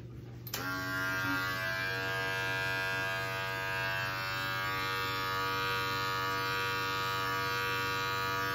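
Electric hair clippers opened fully to the number 3 setting run with a steady, loud, even buzz that starts abruptly and holds unchanged throughout, with no talking.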